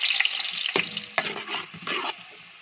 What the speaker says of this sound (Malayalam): എന്നിട്ട് നമുക്ക് കുറച്ച് സവാള ചേർക്കാം.